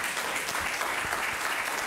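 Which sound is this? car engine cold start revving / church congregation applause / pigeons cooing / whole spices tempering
church congregation applause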